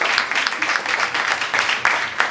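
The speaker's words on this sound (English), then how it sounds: "let's give them a round of applause" A gala crowd breaks into applause, many hands clapping in a thick continuous wash that stays loud and even, with a few sharper claps standing out near the front.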